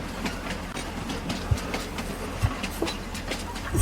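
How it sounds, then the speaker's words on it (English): Train rolling past on a rail line in the Farming Simulator 22 video game, France campaign map, with steady rumbling and a few clacking wheel hits over about four seconds, fairly loud and continuous with no talk. "The train hasn't caught me once so far playing on this map."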